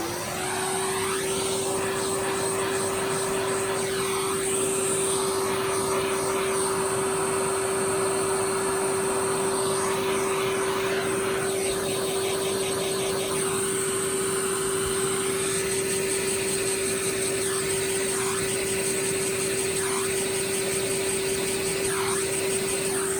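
A vacuum cleaner runs steadily with a constant high whine and airy roar, cleaning out parts of a Hoover Junior U1012 during a full refurbishment, the pitch shifting slightly as the nozzle moves, with no talking.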